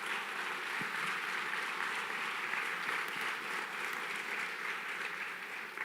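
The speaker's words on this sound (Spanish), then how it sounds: "dale fuerte ese aplauso" A church congregation claps during a sermon, a continuous, even patter of applause heard at moderate distance that carries on for several seconds without talk.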